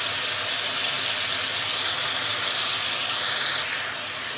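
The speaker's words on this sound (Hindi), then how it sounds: "अब मैं इसमें हरी प्याज ऐड करूँगी और हरी प्याज को भी 1 मिनट सौते करेंगे" Green onions sauté in a pan as a loud, dense, steady hiss of frying that runs evenly throughout and eases slightly at the end.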